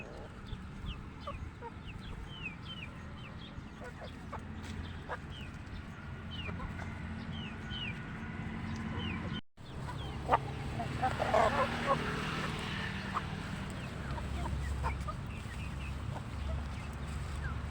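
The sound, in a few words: native chickens clucking while pecking fresh grass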